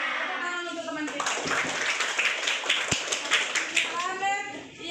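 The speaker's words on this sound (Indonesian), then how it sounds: "Tepuk tangan untuk teman kita." Primary school children in a classroom clap for a classmate who answered correctly. The quick, scattered claps run for a few seconds alongside children's voices and talk.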